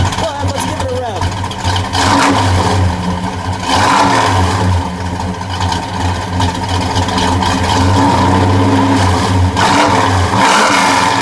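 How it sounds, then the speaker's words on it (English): A 1971 Oldsmobile 442 convertible with a 455 V8 revs up in deep, loud surges that rise and fall over a rumbling idle, with people talking nearby. "Go ahead, let's give it a rev."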